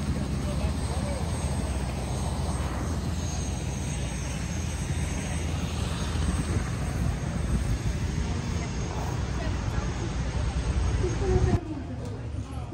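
Helicopters flying in and landing near a window in Orlando, a heavy continuous rotor and engine roar filling the whole stretch, steady and fairly loud, with faint indoor chatter in the background before the noise suddenly drops off near the end.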